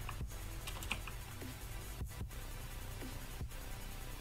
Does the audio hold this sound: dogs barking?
no